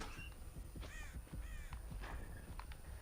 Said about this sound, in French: Y'a un corbeau.